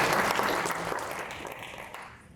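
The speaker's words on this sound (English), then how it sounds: "Let's give him a round of warm applause." Audience applause at a conference talk on dataframe libraries: steady, dense clapping from a room full of people that holds strong, then slowly thins and fades toward the end.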